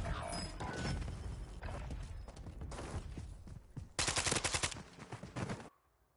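Rapid bursts of automatic gunfire in Call of Duty: Modern Warfare III, dense and loud throughout, with a heavy clustered volley near the end before the sound cuts out.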